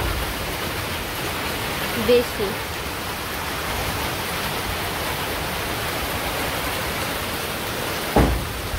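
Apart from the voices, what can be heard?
rain falling in a village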